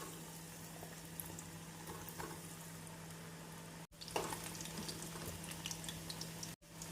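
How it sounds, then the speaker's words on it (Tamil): French fries frying in hot oil in a kadai over a medium flame, a steady low bubbling sizzle with occasional small pops, fairly quiet and continuous throughout. "கடாயில் எண்ணெய் காயவும் மீடியம் ஃப்ளேமில் வைத்து ஃப்ரெஞ்ச் ஃப்ரைஸை பொரித்து விடலாம்."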